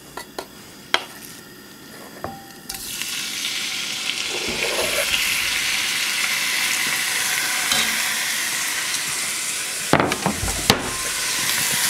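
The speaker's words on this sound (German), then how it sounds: "Dann können wir jetzt schon das Hähnchenfleisch reingeben." Chicken meat sizzles loudly as it fries in a hot Dutch oven with rosemary oil outdoors, a steady close crackle with a few clanks and stirring knocks and no talking.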